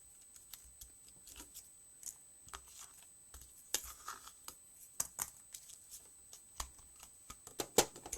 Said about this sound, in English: So I'm going to cut that one about here.